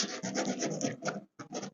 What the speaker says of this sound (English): gotta do a little sanding again